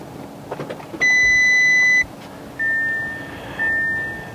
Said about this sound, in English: Let's start up the vehicle.